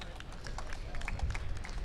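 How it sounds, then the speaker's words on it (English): Crowd at an outdoor political rally clapping, scattered hands mixed with chatter and crowd noise, moderate and ongoing. "A big round of applause for these guys"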